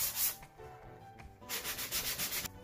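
Rapid rubbing strokes of sandpaper scrub paint residue off a surface, close and rhythmic, in short bursts with brief pauses.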